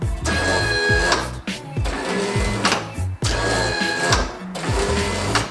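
A car headlight motor runs through repeated cycles, giving about four whirring mechanical pulses, each ending in a thunk. The sound is close and fairly loud, with no talk over it.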